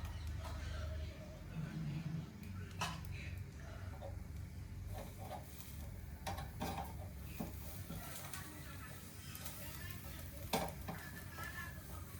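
Food stirred and frying in a pan in a home kitchen, a steady sizzle with scraping spoon strokes and occasional clinks against the pan, close and continuous, with a voice talking faintly at times.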